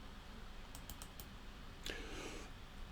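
A few quick mouse clicks in SysML modelling software, a short burst of four or so near clicks followed by another small cluster, faint and alone against a quiet room background.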